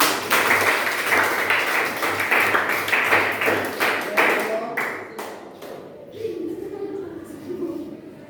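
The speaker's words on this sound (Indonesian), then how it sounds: "kita tepuk tangan untuk kita semua" A school class claps together in a sustained round of applause that gradually thins and fades, with voices talking over the end.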